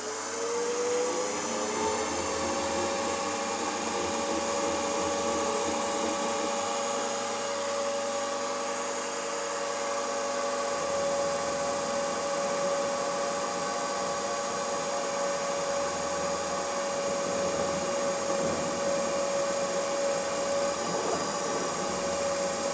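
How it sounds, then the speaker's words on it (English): A machine-shop drill press or lathe centre-drills and then drills a cylinder head for a Farm Boy hit and miss engine, giving a steady high motor whine with a constant grinding drone that shifts midway. "I'll centre drill and then start drilling up to the appropriate size"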